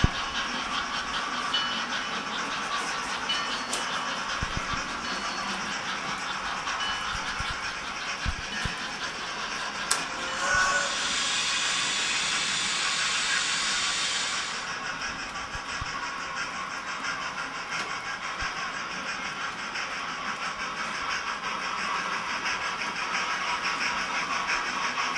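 Continuous mechanical rumble and whir of computer-controlled model trains running along a track, steady throughout, with a brief brighter hiss midway and occasional clicks.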